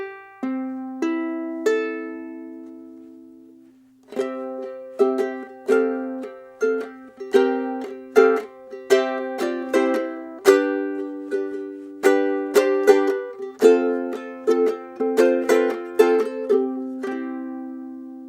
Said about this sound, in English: When it's all tuned, your ukulele should sound like this.